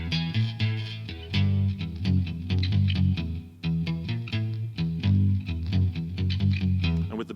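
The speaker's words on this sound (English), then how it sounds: "He wrote this riff, and it sounded like this." Distorted electric guitar plays the riff alone as originally written, a loud chugging pattern of repeated low palm-muted notes and chords with effects, no voices.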